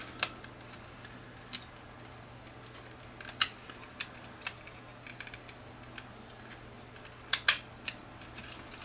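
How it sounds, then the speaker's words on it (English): Scissors trimming a snapped VHS-C tape, several faint sharp snips and clicks scattered irregularly over quiet room hum, with a quick cluster of cuts near the end. "trim the tape"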